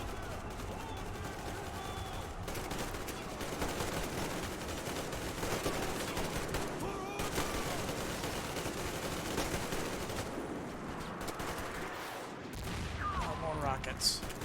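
Rockets and gunfire crash through a battle in the video game Metro Exodus, with dense, continuous bursts and booms layered over one another at close range for the whole stretch.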